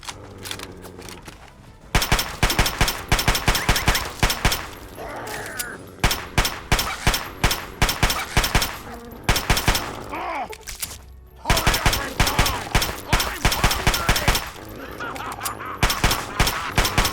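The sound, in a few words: gunfire from the video game Fallout 3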